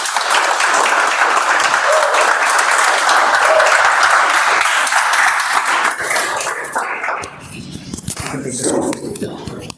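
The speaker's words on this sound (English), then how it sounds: "Huge round of applause." Loud, sustained applause from an audience, steady clapping that thins out and tapers near the end.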